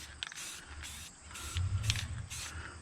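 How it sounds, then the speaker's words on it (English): Short bursts of black aerosol spray paint hissing from a can held about 10 inches away, about five quick sprays in a row with brief gaps between them. "Spraying about 10 inches away."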